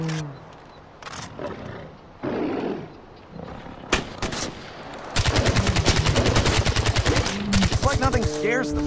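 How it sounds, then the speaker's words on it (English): Tigers in the Far Cry 4 video game roar close and loud amid the chaos of a survival hunt, several overlapping growls building into a dense, rapid stream of gunfire-like bursts that keeps going to the end. "Tiger! It's like nothing scares them. They just keep running toward us."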